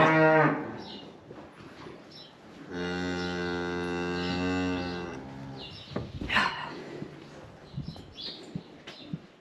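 A cow lets out a long, loud moo, with shorter animal grunts and calls before and after it, up close, as cows fight each other in a barn.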